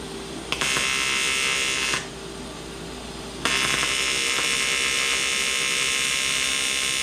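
Tack welding on a scratch-built front-mount intercooler: two loud, harsh buzzing bursts of arc crackle separated by a brief, quieter pause, close up and with no voices.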